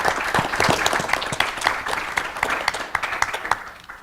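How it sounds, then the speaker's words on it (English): Audience at a MacTeach 2018 education event applauds warmly, a dense, close burst of many hands clapping that holds steady for a few seconds, then gradually thins and fades. "Huge round of applause for her for all that you do and for helping make this possible."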